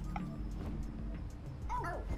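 A cartoon dog in the video game PHOGS 3 gives short yips and whimpers over a steady low game background, with a few quick bouncy sound effects near the end.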